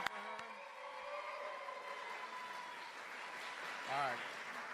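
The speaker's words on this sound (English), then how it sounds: "can I hear you cheer really, really, really loud for Kathy Kramer, your 6th grade teacher?" A faint, distant crowd cheering in a large venue, carried as a continuous wash behind a sustained tone, with a brief swell near the end.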